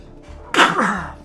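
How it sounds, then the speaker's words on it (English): One sharp sneeze bursts out close by, a quick breathy explosion that fades within a second. "I'm sorry, I had to sneeze."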